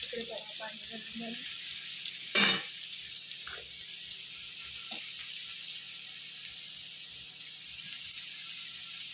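Bitter gourd curry sizzles steadily in a pan as water is poured in, with a brief louder splash-and-hiss burst early on, then a soft continuous frying hiss with a few faint clinks.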